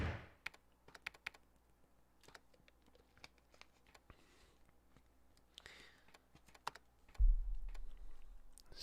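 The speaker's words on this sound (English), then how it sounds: "just typing away here" Rapid clicking keystrokes on a computer keyboard, quiet and close, coming in irregular bursts with short pauses, followed near the end by a louder low rumble.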